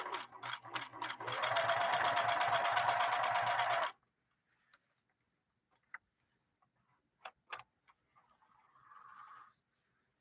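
A Singer 6212C sewing machine runs a zigzag stitch in a fast, even mechanical chatter for about four seconds, then stops, leaving only scattered light clicks and handling sounds.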